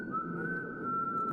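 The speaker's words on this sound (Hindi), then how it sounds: "सीटी बजा रहा है।" A man whistles a single steady, sustained tone, close and clear, holding the note without a break over faint background murmur.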